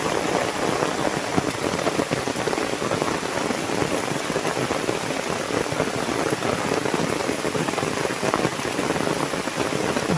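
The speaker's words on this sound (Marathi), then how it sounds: "पाऊस बघा किती आला मोठा तो." Heavy rain falls in a loud, constant downpour, a thick rushing patter of drops striking nearby surfaces without pause.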